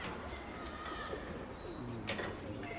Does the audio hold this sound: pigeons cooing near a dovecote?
yes